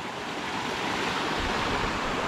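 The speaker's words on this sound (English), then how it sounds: "you can see the waterfall going down all the way here" Waterfall in Borșa, Romania, pouring down with a steady, dense roar of rushing water, broadband and continuous throughout, fairly close and with no voices.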